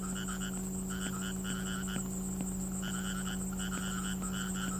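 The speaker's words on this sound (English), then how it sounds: "What's that fucking noise? The frogs?" Video game frogs croak in repeated short pulsing bursts over a steady low hum, with a faint clicking rhythm in the background, on a road in the horror game Yukimaru.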